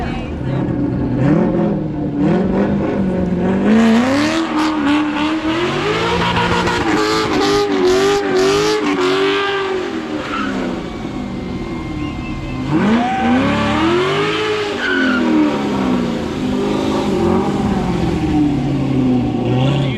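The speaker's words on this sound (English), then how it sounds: "See if we can get a Mustang to do what Mustangs do best. It's burnouts." A Mustang doing a burnout at a car meet, its engine revving hard in loud, rising and falling surges while tires squeal, with shouting crowd voices mixed in.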